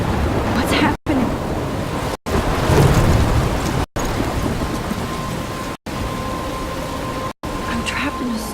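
A thunderstorm with heavy rain roars loudly in Life Is Strange, a dense wash of rainfall with low thunder rumbles, broken by several abrupt silent gaps.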